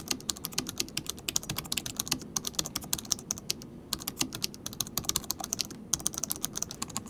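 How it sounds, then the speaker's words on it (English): Laptop keys clack in quick, uneven bursts of sharp clicks, close and fairly loud, with a couple of short pauses between runs of typing. "most of them have a clickety-clack sound"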